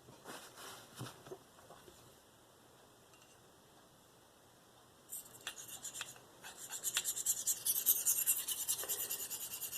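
Spyderco Endura knife with a V-Toku2/SUS410 blade drawn across the fine side of a whetstone, faint soft rasping strokes at first, then louder, steady repeated scraping passes up close.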